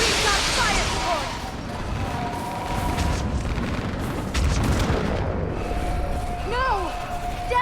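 Rumbling artillery fire support in a Mass Effect 3 battle, heavy booms and explosions rolling continuously under shouted voices and whistling projectiles.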